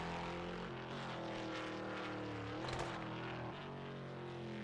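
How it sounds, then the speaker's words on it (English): A muscular car at the 2020 Goodwood Festival of Speed rumbles with a steady, loud engine drone, broken near the middle by one sharp, aggressive backfire crack. "that was quite an aggressive backfire"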